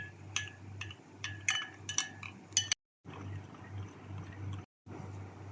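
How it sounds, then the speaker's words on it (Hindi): Red chilli sauce and dark soy sauce stirred together in a small bowl, a close run of quick spoon clinks and scrapes against the bowl with brief pauses, alone. "अब हम इन सॉसेस को अच्छी तरह से मिक्स कर लेंगे।"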